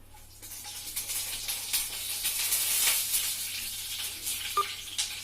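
Opened cardamom pods fry in hot oil with a soft hiss and sizzle that swells in the middle. A small clink comes near the end, and no one speaks.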